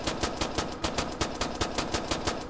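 Automatic gunfire in the video game Arma 3: a fast, evenly spaced burst of shots, about five or six per second, sustained loud and close for a couple of seconds.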